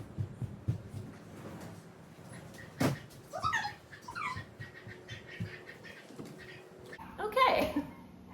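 A pet dog back home knocking at a door and whimpering, with a sharp thump, a few soft whines and a louder cluster of yelps near the end, faint and indoors under low room noise.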